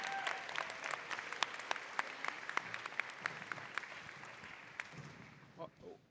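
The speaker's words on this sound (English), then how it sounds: "So big round of applause." Audience applause at a high school spring jazz night club event, a dense patter of many claps filling the room and gradually thinning toward the end, with a few louder individual claps standing out.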